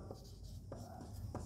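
Chalk or pen writing during a lesson, quiet scratchy strokes with a few sharper taps, close and faint with a low background hum.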